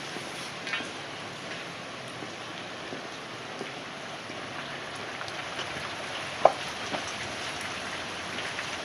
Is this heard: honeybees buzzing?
no